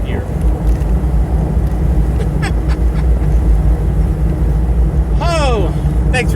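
A car with an Aluminator engine cruising in sixth gear makes a loud, steady low drone of engine and road noise, with a couple of brief high chirps layered on top.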